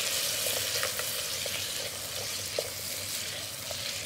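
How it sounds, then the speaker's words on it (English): Steady sizzling of garlic and onions sautéing in a hot pan, a dense hiss with small pops and crackles throughout, no voices. "We begin with saute of garlic and onions"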